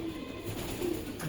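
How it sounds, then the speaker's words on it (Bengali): Pigeons coo softly in a loft, with low, rolling calls repeating close by over a faint background hum. "এখন সব কবুতর ছেড়ে দেব"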